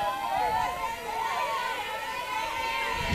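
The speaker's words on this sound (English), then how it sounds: "Crowd getting more animated now." Spectators at a Mountain View vs Cupertino high school softball game buzz with chatter and rising excitement, a continuous crowd murmur under a nearby announcer's commentary.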